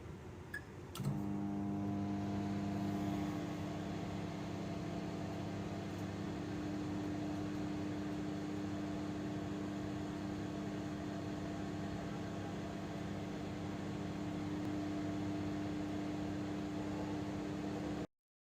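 A microwave oven runs while heating demineralized water with a silicone pipette inside the chamber: a click at the start, then a steady, even mechanical hum with fan noise that continues unbroken until it cuts off at the end.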